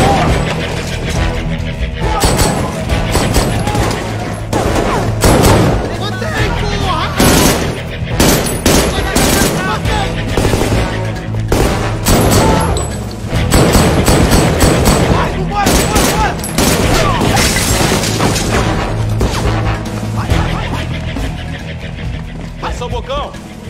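Heavy automatic gunfire from a police shootout in a Brazilian action film, long bursts of machine-gun fire and shattering impacts filling the whole stretch at high volume, with shouted voices mixed in.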